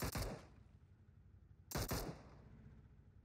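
Gunfire in the video game PUBG Mobile: two loud, close bursts of rapid shots, one at the very start and another about a second and a half later, with a quiet lull between them.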